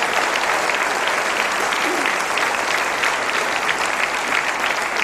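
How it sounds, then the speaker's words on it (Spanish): A theatre audience at a Coco Legrand comedy show applauds in a loud, dense, continuous wash of clapping that lasts the whole stretch without letting up. "Yo creo que eso merece fuerte aplauso para ellos"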